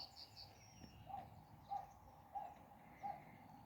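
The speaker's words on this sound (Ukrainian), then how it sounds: "беззупинно щебечуть пташечки" Small birds chirp beside a steaming pond in early spring, four short, faint, evenly spaced calls rising over a quiet outdoor hush.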